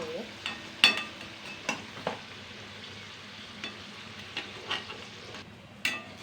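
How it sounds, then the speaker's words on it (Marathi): Modak sweet dumplings deep-frying in hot oil, with a close, steady crackle broken by sharp spattering pops every second or so, and no talking. "याप्रमाणे मी सर्व मोदक आता तळून घेते"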